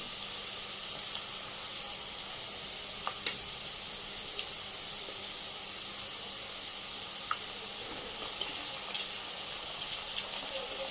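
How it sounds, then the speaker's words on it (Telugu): Ginger garlic paste sizzles steadily in a pan for Guntur-style mutton curry, a continuous close hiss with occasional small pops and spatters, no talking. "ఇప్పుడు అల్లం వెల్లుల్లి పేస్ట్ వేసుకోవాలి."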